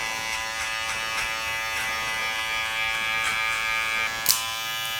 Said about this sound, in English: We're gonna blend this line out right here, flicking out with the 2 guard lever open